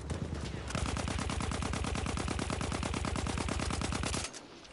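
A machine gun fires a long, rapid, evenly spaced burst of loud shots in Battlefield 1 multiplayer, lasting about four seconds before cutting off abruptly.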